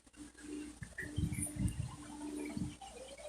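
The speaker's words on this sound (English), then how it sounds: "I'm going to rinse these off" Tap water runs over chicken pieces in a kitchen sink, a steady splashing hiss with a few heavier gurgling bursts as the pieces are turned under the stream. It sounds close and fairly quiet, with no talking.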